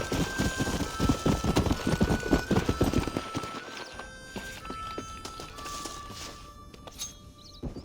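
Horse hooves clip-clop steadily on a road in the Red Dead Redemption video game, loud and rhythmic at first and then thinning to fainter, sparser steps, with no talk over them.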